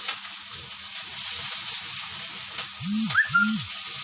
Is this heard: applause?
no